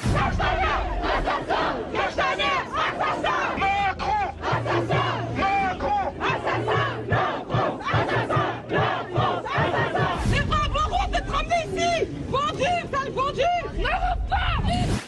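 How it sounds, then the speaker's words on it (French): A large protest crowd on the Champ de Mars chants the same words together, a loud rhythmic mass of voices with repeated phrases and cries rising and falling for the whole stretch. "on entend toute une foule qui dit la même chose"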